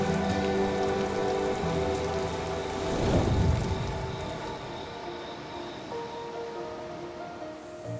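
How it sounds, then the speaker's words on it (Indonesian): Steady rain falls at night at sea aboard the fishing boat KM Harvestama, a dense, loud hiss of drops on the deck mixed with low engine drone, swelling briefly in the middle with no voices. "kita bersiap mengarungi lautan di tengah hujan malam hari"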